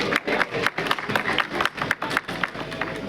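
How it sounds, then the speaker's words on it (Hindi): A crowd at a Bihar Diwas celebration applauds in uneven bursts of clapping, some louder swells and dips, with faint crowd noise underneath. "अपनी तालियां भी बजाते रहेंगे"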